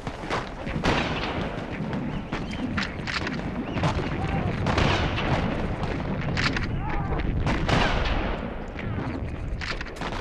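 Gunfire and artillery crash repeatedly in WWI trench warfare at Gallipoli, sharp irregular bursts and booms over a dense rumbling din of battle, fairly loud and continuous.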